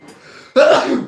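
A single sharp sneeze bursts out after a brief intake of breath, loud and close during a live tabletop role-playing game session.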